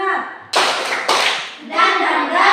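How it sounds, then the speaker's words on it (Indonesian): An Indonesian school class does a rhythmic spirit clap, with sharp bursts of many hands striking together in quick patterns, mixed with children's voices chanting along. "Oke, tepuk semangat."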